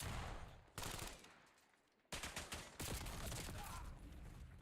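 Bursts of automatic gunfire from a shooter video game hardpoint match, loud rattling volleys with a brief lull before the shooting resumes and continues steadily to the end.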